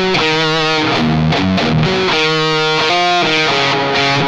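Electric guitar through heavy distortion playing a riff with palm-muted notes, a loud, saturated, chugging run of short and sustained tones, played alone without talk.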